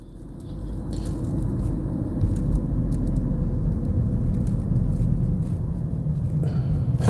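Car engine accelerating at about 4,000 RPM while merging from a small ramp onto I-94 at Gratiot, a steady loud rumbling drone close by, building slightly and holding for several seconds with no talk.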